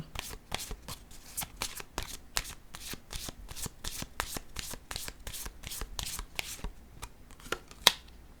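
A deck of cards shuffled briskly for a French-language tarot-style reading: a long run of quick, crisp riffling snaps at a steady rhythm, close and fairly quiet, ending with one sharper slap.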